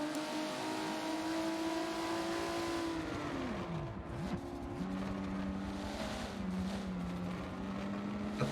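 Race car engine at Watkins Glen in a sim racing game, a loud sustained drone whose pitch rises, dips sharply and climbs again as the car revs, brakes and accelerates, with overlapping engine notes.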